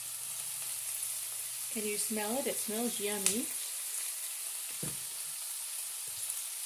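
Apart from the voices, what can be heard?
ham, green beans and onions sizzling in a pan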